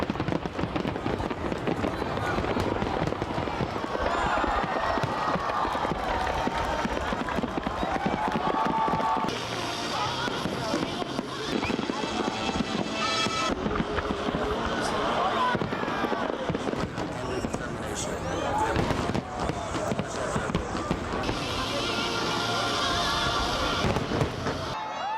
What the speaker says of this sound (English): New York is also recognized for its celebrations, like the spectacular fireworks display every July 4th